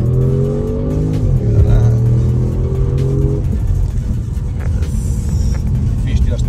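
An Audi S7 with a Stage 1 tune revs hard up close, engine pitch climbing and falling through the first few seconds before settling into a low rumble, with voices talking over it.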